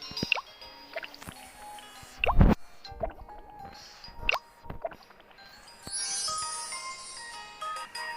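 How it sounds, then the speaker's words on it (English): Mixture poured into a mold in a cartoon cooking game, heard as a string of cartoonish drips, squishes and plops with a loud splat in the middle, closing on a bright tinkling jingle. "Now pour them into the mold."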